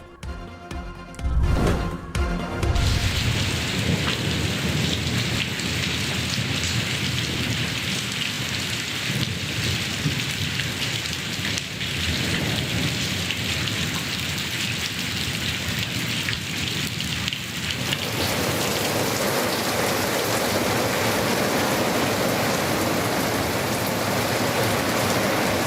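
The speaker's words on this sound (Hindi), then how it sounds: "गरज चमक के साथ होने वाली मूसलाधार बारिश" Heavy, steady downpour of torrential rain over Islamabad and Rawalpindi with thunder, a sharp crack and rumble early on, then continuous dense rain hiss throughout, no voices.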